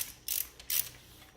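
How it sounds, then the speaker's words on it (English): A ratchet wrench tightens the axle pinch bolts on a Kawasaki KX450F dirt bike front wheel, giving two quick, close clicking bursts separated by a short pause. "tighten the other side of the axle. Pinch bolts here."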